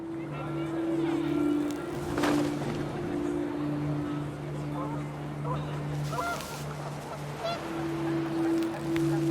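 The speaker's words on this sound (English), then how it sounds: "The wind picked up and panicked geese appeared and quickly went." Panicked geese honk in the video game What Remains of Edith Finch, a flurry of overlapping calls over wind and a steady low droning tone, moderately loud throughout.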